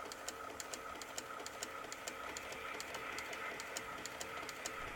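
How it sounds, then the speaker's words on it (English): A printer prints stickers with a faint, steady mechanical whir and a regular rapid ticking of the print head, heard alone at low volume. "and now it's printing"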